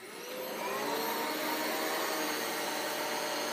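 A vacuum cleaner starts up and runs steadily with a loud, high-pitched whine and broad airy rush, close by with no talking.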